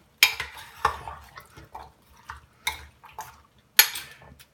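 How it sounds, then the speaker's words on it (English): A spoon stirs beef stew with chunks of onion in a pot, making a handful of sharp clinks and scrapes against the metal at irregular intervals, separated by quiet pauses. "I lightly stir it."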